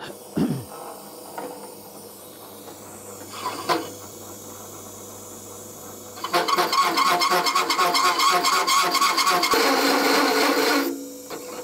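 After some quiet handling noises, a drill starts up close and runs loudly and steadily for several seconds with a grinding edge as it bores a hole through metal, then stops.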